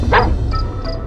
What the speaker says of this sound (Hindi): दूर कहीं कुत्तों के भौंकने की आवाज